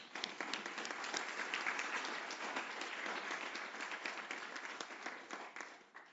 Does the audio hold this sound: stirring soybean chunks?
no